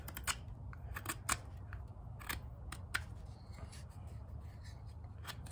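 A Schrade Old Timer knife carves wood in short, scraping strokes, gouging out material bit by bit, with irregular crisp cuts and rasps at close range and no talking.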